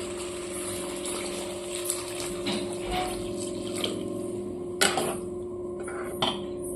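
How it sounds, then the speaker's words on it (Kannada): A glass of water is poured into a pan of eggplant curry, a low continuous gushing with a steady hum beneath and a few clinks of the vessel, no talk over it. "ಈಗ ಒಂದು ಗ್ಲಾಸ್ ನೀರು ಹಾಕತ್ತೇನ್ರಿ"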